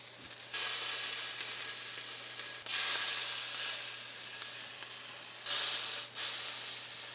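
A filet searing in a pan with garlic, fresh rosemary and thyme as it is rolled to brown the sides: loud close sizzling that swells in three bursts, with brief dips between them and a low steady hum underneath.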